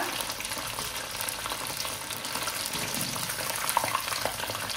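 Mushroom kalan pieces deep frying in a pan of oil at a roadside stall, giving a continuous dense crackling sizzle at even loudness with faint bubbling and occasional small pops.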